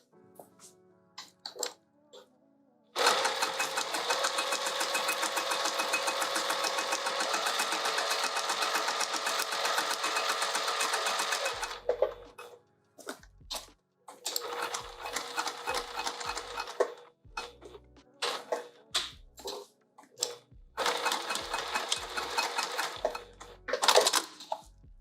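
A sewing machine runs a long steady burst of large, chunky stitches on a fabric pouch for a boxed-corner design, then continues in several shorter bursts separated by brief pauses.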